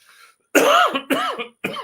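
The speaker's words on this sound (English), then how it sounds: "I apologize for the coughing." Three harsh, forceful coughs close to the microphone, each a short burst with brief pauses between them.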